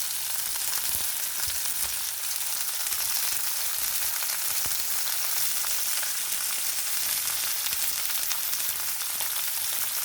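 Steaks frying in a pan on a gas stove over high heat, a loud, steady, close sizzle with occasional small pops and scrapes, no speech.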